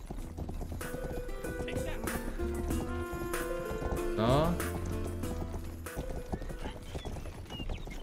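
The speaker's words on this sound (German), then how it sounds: "Oh, das Pferd ist nicht schnell genug." Horse hooves clip-clop at a gallop in the Western video game Rustler, with a whinny midway and game music, while someone talks over it.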